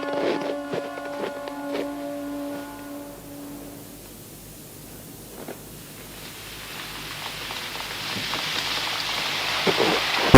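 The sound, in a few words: rain falling, in a cartoon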